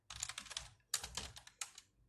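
A computer keyboard is typed on in three short bursts of rapid clicking keystrokes, close and fairly quiet, with brief pauses between bursts.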